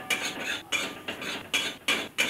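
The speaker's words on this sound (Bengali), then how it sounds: "একটু সাদা তিল শুকনো খোলায় ভেজে নেব।" White sesame seeds dry-roast over a low flame in a pan without oil, stirred with a large spoon in regular scraping strokes about twice a second, close and fairly quiet.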